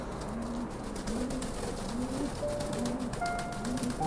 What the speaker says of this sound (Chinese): 今天是小鸽子开家的第八天